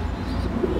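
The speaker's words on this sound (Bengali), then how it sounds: "মূলত এগুলি পোটার জাতীয় কবুতর।" Pouter pigeons at a pigeon farm in Chittagong coo in low, soft, rolling murmurs. The cooing is close and continuous through a brief moment.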